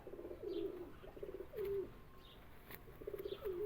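Safaid Chatri pigeons coo softly in a few short, throaty phrases, separated by brief pauses, with faint background noise and no talking.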